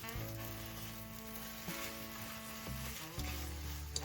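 Eggs fry in a pan on a hot stove, a steady close sizzle and crackle with faint pops, continuous and fairly quiet under a low hum.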